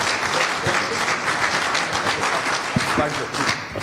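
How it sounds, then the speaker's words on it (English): Applause from a conference audience for a panel at a diaspora expo in Washington DC, a steady dense clapping texture lasting throughout, with some voices mixed in. "join me in giving my panelists a big round of applause"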